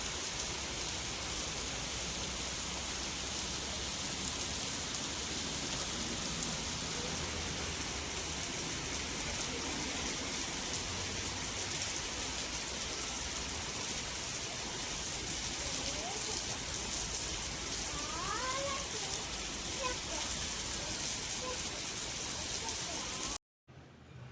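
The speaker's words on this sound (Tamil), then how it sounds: "டக்குன்னு வந்து மழை வந்துடுச்சு. லைட்டாக தூறல் மாதிரி தான் இருந்தது." Light drizzle falls steadily across an open park in Bangalore, a soft continuous hiss of rain with distant background ambience throughout, ending in an abrupt cut to silence.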